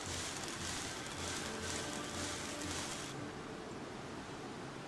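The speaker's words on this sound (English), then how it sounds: "It's raining again." Steady rain falls in the survival video game Planet Nomad, a continuous soft hiss of drops that runs alone without talk, its brighter upper wash dropping away near the end.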